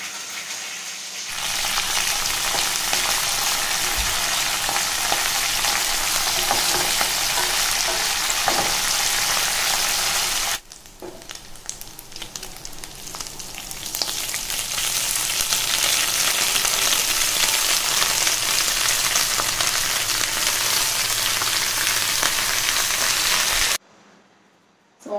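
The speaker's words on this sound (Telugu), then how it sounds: "సో ఈ తాలింపు బాగా వేగిన తర్వాత మనం ఈ డ్రై ప్రాన్స్ చేసుకోవాలి." Dry prawns fry in hot tempering oil for a telagapindi curry, giving a loud, dense, continuous sizzle up close. Midway it drops off sharply, then swells back to full strength and runs steadily before cutting out near the end. No voices are heard.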